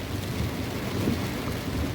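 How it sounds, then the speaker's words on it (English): Heavy rain pounds on a car in a downpour, a dense, constant drumming roar that is close, loud and unbroken, with no talking. "the rain's hitting my car. It started to come down really hard"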